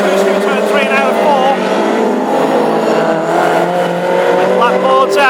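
Classic hot rod race cars roaring through a turn during a final at Birmingham, a loud continuous engine drone with rising and falling revs while a commentator talks over it.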